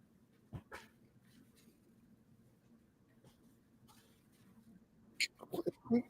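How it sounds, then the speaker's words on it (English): Indoors, a dog shifts about and rubs against a seat, with soft rustling and a brief whimper before several sharper bumps and scuffs near the end, all under quiet room noise. "Dog's rubbing her butt up against the seat."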